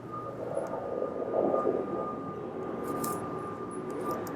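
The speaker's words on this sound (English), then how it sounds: "That plane noise, I'm putting that in with my mixer." An airplane noise sound effect mixed into a podcast edit: a steady, loud broadband engine roar with a constant drone, continuous for the whole span, rising slightly midway, with no talking.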